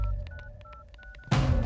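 A telephone number is dialed as a quick series of short keypad tones, about a dozen beeps in a fast, uneven rhythm. A sudden burst of louder noise cuts in at the end.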